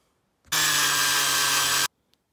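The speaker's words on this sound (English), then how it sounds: "So we're gonna go ahead and drill these holes." A drill bores holes for bolts in a homemade rod and reel made from volleyball net, one steady, loud whine lasting just over a second with silence before and after.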